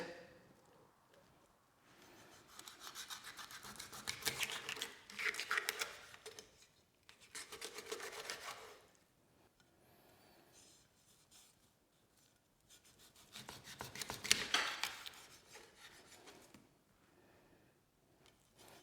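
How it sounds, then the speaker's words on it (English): A knife cuts through lampuki fish slices on a board in several rasping, scraping bursts, quiet and close, separated by short pauses. "I cut the lampuki slices"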